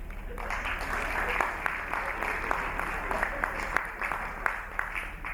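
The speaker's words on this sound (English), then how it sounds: "This side, please clap." An audience claps at a comedy show when asked by the host, with steady applause and sharp individual claps standing out over a murmuring crowd.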